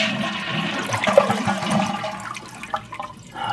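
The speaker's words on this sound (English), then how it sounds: "flush your toilet." A household toilet with a large flapper flushes in a burst of rushing, gurgling water that drains and swirls for a few seconds before the tank starts refilling, close by with no voices.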